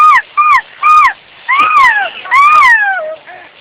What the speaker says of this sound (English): you don't have any seagulls in the room with you by any chance there, do you know?